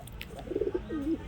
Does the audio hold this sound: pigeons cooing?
yes